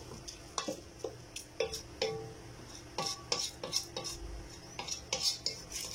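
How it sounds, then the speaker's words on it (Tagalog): Rice and chicken being stirred in a cooking pot, a utensil scraping and clinking against the metal in an irregular rhythm of repeated strokes over a faint sizzle, fairly quiet and close. "Haluin nyo lang maigi ha."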